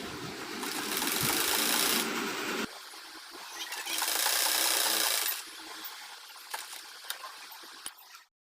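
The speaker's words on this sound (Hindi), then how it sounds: "अब हमें कुर्ती के साइड स्टिचिंग करती, जो हमने मार्क की है उस पर ही हमें स्टिचिंग करनी है।" A sewing machine stitches the side seam of a kurti along a marked line, in two loud bursts of steady whirring separated by a pause, followed by quieter cloth handling and a few clicks.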